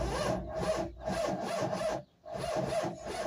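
An old lorry with over 2 million kilometres on it cranks over to start, a loud rhythmic churning of repeated bursts that stops briefly near the end before cranking resumes, with no talk.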